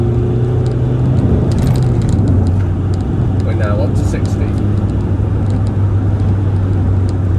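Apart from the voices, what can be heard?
Mk2 Toyota RAV4 2-litre diesel engine accelerating while driving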